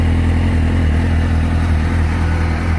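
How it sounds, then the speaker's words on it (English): A 2004 Suzuki GSX-R 750 with a Yoshimura exhaust warms up in cool weather, its engine holding a steady, loud, low idle rumble close by throughout. "It's about 20 degrees, so the bike's just warming up."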